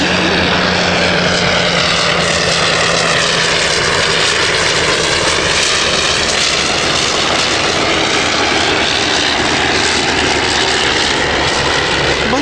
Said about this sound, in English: this 504, as I said, flies today with a Leron rotary engine